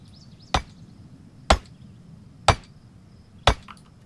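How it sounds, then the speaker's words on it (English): A hammer strikes iron ore on a crafting table in a video game: four sharp, evenly spaced blows about a second apart, each a crisp isolated impact over a quiet background. "if I crush some iron ore with my hammer on that table"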